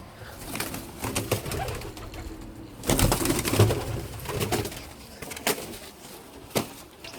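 Pigeons coo softly in a loft amid rustling and scattered thumps and wing flaps, with occasional sharper knocks.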